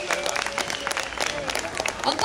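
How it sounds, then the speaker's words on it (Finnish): An audience claps and cheers after a singer's performance, a steady, full wash of applause from a large crowd with some voices mixed in. "Annetaanko kerran vielä isot aplodit loistavasta suorituksesta"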